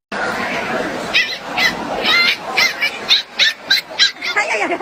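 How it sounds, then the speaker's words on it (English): A happy dog yips, barks and whimpers in a rising run of short, excited bursts that grow quicker and louder toward the end, with a person talking over them. "Oh just a happy dog."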